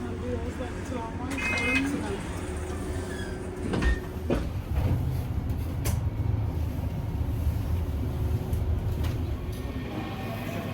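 Busy German train station ambience: a constant low rumble of trains, scattered clanks and door sounds, and people talking in the background.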